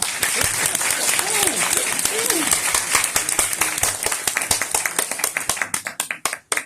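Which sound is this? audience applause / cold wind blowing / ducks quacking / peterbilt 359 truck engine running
audience applause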